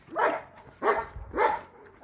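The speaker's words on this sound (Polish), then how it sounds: "trzeba go puścić, bo on tu nie przestanie szczekać" Dog barking at home in a garden setting, three loud, evenly spaced barks close by with short gaps between them.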